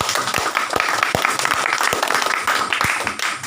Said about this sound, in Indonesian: Tepuk tangan kayak gitu